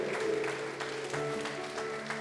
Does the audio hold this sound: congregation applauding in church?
yes